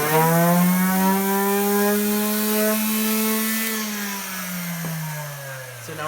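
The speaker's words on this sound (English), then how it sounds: "So now we're done sanding all the 4 legs" A power sander drones steadily at close range on wooden legs, its humming pitch sagging slightly before it winds down near the end.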